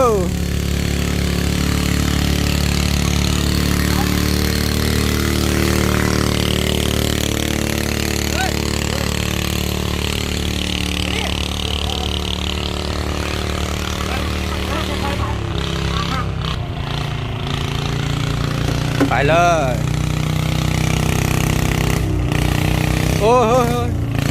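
A farm tractor engine drones steadily and close by as the tractor is driven to pull a heavy rice-planting machine, a continuous rumbling chug under intermittent talk.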